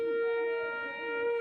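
A siren heard during Ramadan, right after a firecracker goes off, gives a steady sustained wail at moderate distance with no voices over it.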